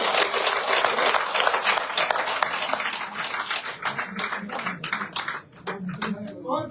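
An audience at a BJP party office joining event claps loudly, a dense burst of applause that thins into scattered individual claps near the end, with voices mixed in.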